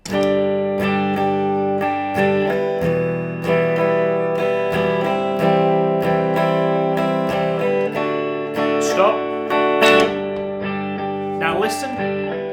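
Distorted electric guitar chords, C then D, repeat as a continuous looper pedal loop, the phrase cycling back seamlessly with steady strumming and sustained ringing notes.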